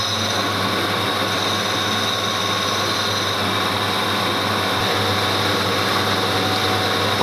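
Milling machine driving a carbide cutter through metal with no coolant, a steady dense machining roar with a low hum running unbroken throughout, no speech.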